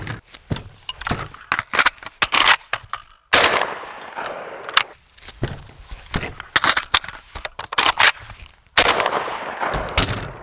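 Sharp handgun shots ring out one after another during a shooting drill, loud bursts separated by short pauses, with some clusters of rapid fire and a few isolated reports over ten seconds.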